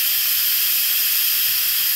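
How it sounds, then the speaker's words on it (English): Loud, continuous hiss of steam venting from an Instant Pot Duo Nova 3-quart pressure cooker, close and unbroken throughout. "the steam is definitely coming out"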